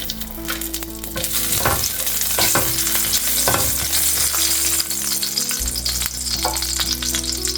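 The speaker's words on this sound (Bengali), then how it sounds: "এই অয়েলের উপরেই আমি এখন শুকনো মরিচ অ্যাড করে দিচ্ছি" Dried red chillies frying in hot oil, for a fish fry, give a loud, close, steady sizzle with several sharp stirring scrapes and clatters in the pan throughout.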